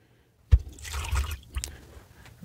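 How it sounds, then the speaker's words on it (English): Water pours into an ultrasonic cleaner tank, starting with a sudden splash and running as a short gurgling fill for about two seconds, close and fairly loud. "So what you do is you fill it up with some water first."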